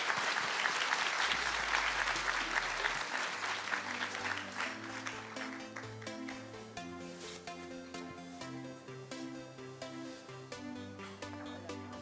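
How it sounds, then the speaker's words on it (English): An audience applauds a panel after a fireside chat session, sustained clapping that gradually fades as background music swells underneath. "please give our wonderful panel a round of applause"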